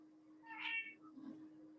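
A cat meows once, a clear mid-pitched call rising above a steady electrical hum, followed by a fainter second sound, heard from the background of a quiet room.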